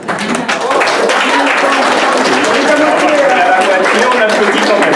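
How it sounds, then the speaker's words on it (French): Wedding guests clap during a civil ceremony, dense and loud applause that swells quickly at the start and holds steady for several seconds, with a faint murmur of voices mixed in under the clapping. "On applaudit quand même."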